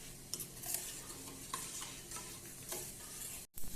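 A homemade melted soap mixture with neem, tulsi, aloe vera and honey is stirred in a pan over heat, giving a continuous close scraping and swishing stir with light sizzle and no talk.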